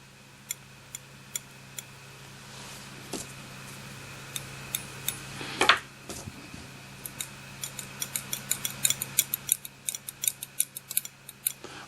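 Metal tweezers clicked together repeatedly, producing sharp, bright little ticks scattered at an uneven pace, faint over a low background hum, with no voices.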